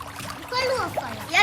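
A small child splashes in a warm bath or pool, with short bright splatters rising over the murmur of a voice and adult chatter nearby.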